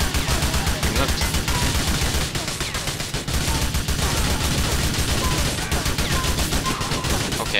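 Dense, continuous automatic gunfire in Grand Theft Auto IV multiplayer, rapid overlapping bursts filling the whole stretch at steady loudness, with no pause.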